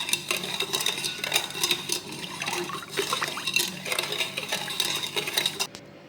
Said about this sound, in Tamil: இப்போ நல்லா சர்க்கரை கரையிறதுக்கு நல்லா கரண்டி விட்டு கலக்கிக்கணும்.